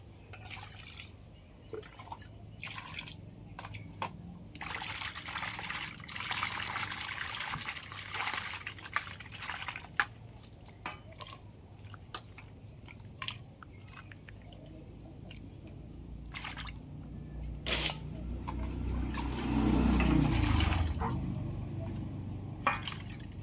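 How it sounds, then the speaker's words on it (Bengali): Freshly cut tangra fish being washed in water, with steady splashing, dripping and trickling close by, swelling into a louder gush of water near the end. "মাছগুলো তো সব কাটা হয়ে গেছে এবার আমি ধুয়ে পরিষ্কার করে নেবো"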